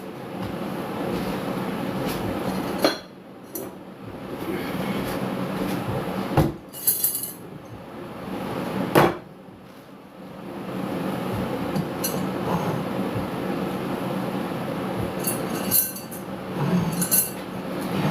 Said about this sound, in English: I'm gonna jar up this ghee.